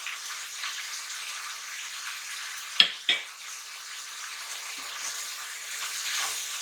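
Chili, capsicum and green peas stir-frying with minced beef, a soft steady sizzle with two sharp clatters of the utensil against the pan midway, then quieter frying with light stirring.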